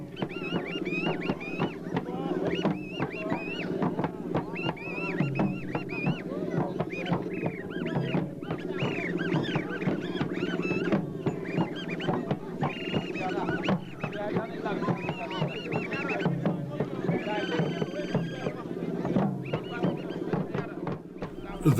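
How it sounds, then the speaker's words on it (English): High, bird-like twittering voices of Burkina Faso masks, made by a performer blowing over a reed held between his teeth, chirp in rapid bursts over a busy outdoor crowd and talk. "The bird-like twittering sound that you hear is the voice of the masks, produced by blowing air over a reed that the performer holds between his teeth."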